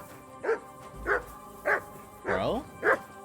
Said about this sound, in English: Clever dog.